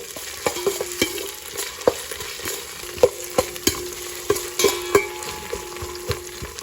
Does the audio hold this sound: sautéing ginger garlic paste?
yes